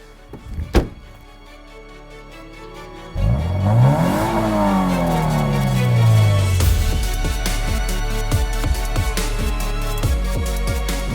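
A 2015 Subaru BRZ with a naturally aspirated 2-litre four-cylinder boxer engine: a door thunk, then the engine revs hard through rising gears, followed by a steady driving drone with quick sharp transients.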